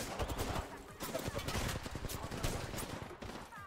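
Dense, continuous automatic gunfire from bots in the video game Apex Legends, with sustained rapid shots and explosive crackle filling the whole stretch at a fairly even level, with no talking.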